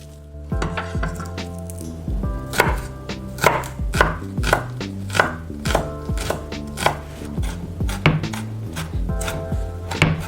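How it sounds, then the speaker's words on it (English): Knife chopping garlic on a cutting board for vegan dou ban jiang noodles, a steady run of sharp close taps and thuds, with background music and no talk. "Just going to carefully peel and mince the garlic."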